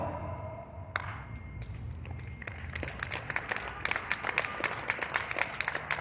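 Scattered applause from a crowd at an outdoor rally to bring troops home, starting after a short pause and building into irregular sharp claps with a murmur of voices underneath, moderately distant.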